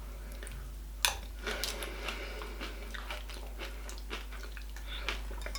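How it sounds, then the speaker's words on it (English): Breakfast cereal chewed close up, with soft repeated crunches and bites at an irregular rhythm over low steady background hum. "So first step's just to eat the cereal."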